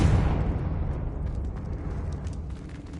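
A Confringo fire blast from the Hogwarts Legacy video game explodes close and loud. Its heavy rumbling boom fades over a few seconds into a low crackling tail.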